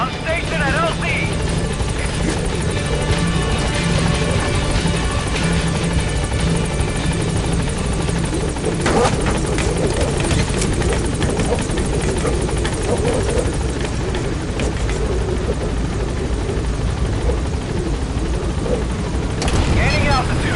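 A helicopter hovers at a landing zone in Metal Gear Solid V, its loud, continuous rotor thrum and engine whine steady and close throughout, with a voice talking over it.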